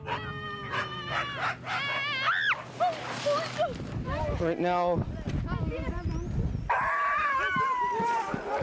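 Several dogs running on a dog track at 6 Mile bark, yip and howl close by in overlapping, rising and falling cries, with a person talking briefly among them.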